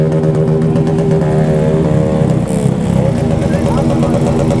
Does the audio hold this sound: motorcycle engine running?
yes